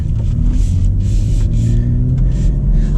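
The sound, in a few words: BMW X3M Competition engine as it starts driving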